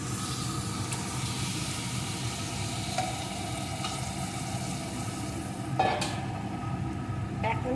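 Marinated chicken hits hot oil and spiced masala in a pan, giving a steady dense sizzle with occasional stirring scrapes and clinks throughout.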